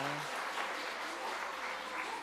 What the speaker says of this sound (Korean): 박수 한번 좀 부탁드리겠습니다.